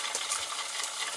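Liquid nitrogen boiling and spitting on water-cooled RAM during testing: continuous hissing and crackling with brief sharp pops scattered through it.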